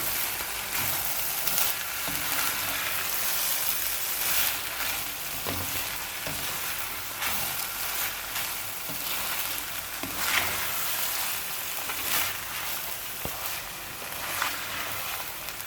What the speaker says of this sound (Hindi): इसमें अब हम अपनी दाल को अच्छे से मिक्स कर लेंगे मसाले के अंदर।